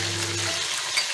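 Beef hits a hot pan with a steady sizzle and frying crackle for about a second, close and fairly loud with no voices, for palak gosht.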